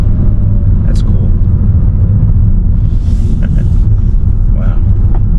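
A BMW 430i xDrive accelerates in Eco mode in traffic, a steady low engine and road rumble heard from inside the cabin, loud and continuous, with someone talking over it.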